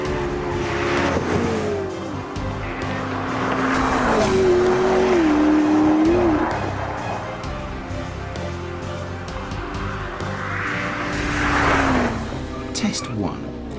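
McLaren P1 supercar on a road test, its engine droning loud and close with rising and falling pitch as it accelerates and shifts, a voice talking over it throughout.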